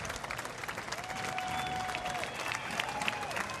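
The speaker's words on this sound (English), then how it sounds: "Listen to the applause of the crowd." Crowd applause at an Independence Day parade, steady dense clapping from many spectators at a moderate distance, with faint whistles or tones rising above it.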